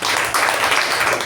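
Applause from an audience at a Toastmasters meeting, a dense, steady patter of many hands clapping close by for the full short stretch, with no talk over it.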